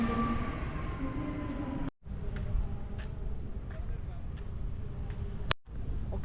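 A train rolls into Kiara Condong station in Bandung with a steady low rumble and rattle heard from inside the carriage. The noise briefly cuts out twice, and faint voices sit under it.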